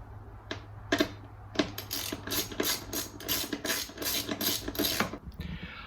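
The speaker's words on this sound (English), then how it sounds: "I'm just using my socket and ratchet set to put it back together." Socket and ratchet clicking while reinstalling coil pack bolts on a BMW E90 328i with the N52 engine, a run of sharp, close ratchet clicks in quick bursts over a steady low hum.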